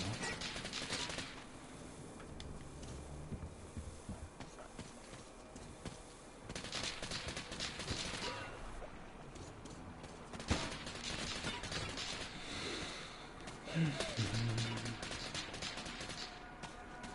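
Gunfire in the video game Metro Exodus, dense bursts of automatic fire with crashing impacts running steadily through the stretch, loud and close with no talk over it.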